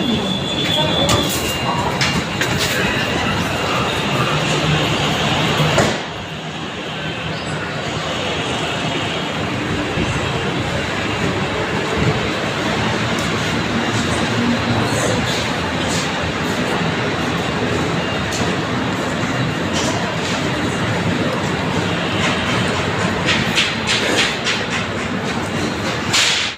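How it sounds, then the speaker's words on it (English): An Orange Line metro train in Lahore at Shalimar Drive Station makes a loud, continuous rumbling roar from onboard, with a brief shift partway through and voices faintly beneath the noise. "We are now at Shalimar Drive Station. Please get right from left side and mind the gap."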